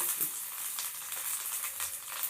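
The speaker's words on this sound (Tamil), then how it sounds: "எல்லாத்தையும் லேசாக வறுத்து எடுத்துக்கோங்க" Chana dal, shallots, garlic and dried red chillies roast in a pan with a faint, steady sizzle and soft stirring scrapes, quiet and close.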